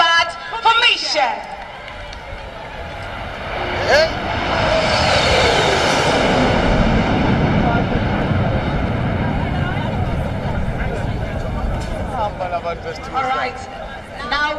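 Military aircraft flying in combat formation roar past at an Armed Forces Day air display in South Africa, swelling to a long, loud, broad rush overhead before slowly fading, with a crowd and a commentator's voice around them.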